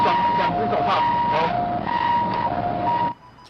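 An ambulance siren at an industrial accident scene in Taichung, Taiwan, wails in a repeating two-tone pattern, loud and fairly close, with some talk alongside, then drops away sharply at the end.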